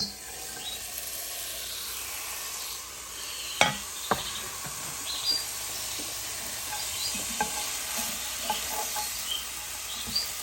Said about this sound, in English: next we're going to throw the raw veggies in here and let them brown up